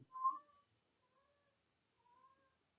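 A cat calls out with three meows, the first louder and the next two faint and drawn out, in an otherwise quiet room.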